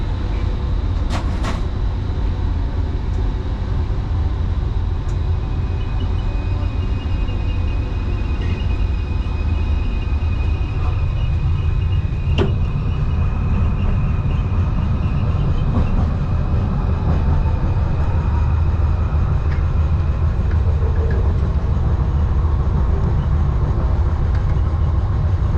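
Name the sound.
LRT light rail train in Kuala Lumpur, Malaysia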